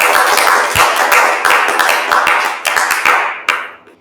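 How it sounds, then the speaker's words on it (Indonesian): Audience applause for the guest speakers at the close of a school talk show, heard as loud, dense clapping with sharp individual claps standing out, fading toward the end. "mari kita beri tepuk tangannya untuk para bintang tamu yang telah hadir"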